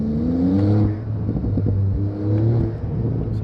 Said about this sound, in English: Some lovely pops and bangs.